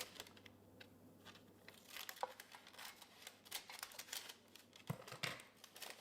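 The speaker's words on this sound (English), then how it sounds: "and then you cut the corners," Faint snipping and crinkling of paper as corners are cut, irregular cuts and rustles close by in a quiet room.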